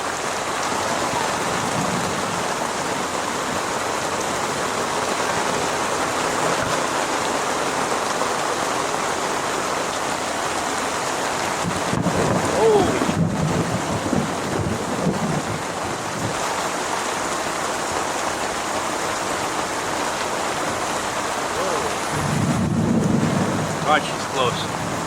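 Rain drums steadily on a sailboat at anchor in the Exumas during a May thunderstorm, a constant close hiss with a couple of louder low rumbling surges partway through and near the end.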